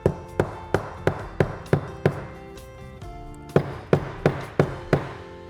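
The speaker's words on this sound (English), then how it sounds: "And hit it with a hammer" A hammer taps repeatedly on foam in a steady rhythm, about a dozen sharp knocks up close, with a brief pause midway before the tapping resumes.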